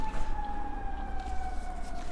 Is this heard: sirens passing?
yes